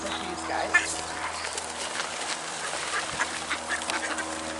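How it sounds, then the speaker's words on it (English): Geese call out over a marsh at Sechelt, British Columbia, during bird feeding, with scattered honking and quacking cries rising now and then above a steady outdoor background at moderate distance. "Oh, geese came."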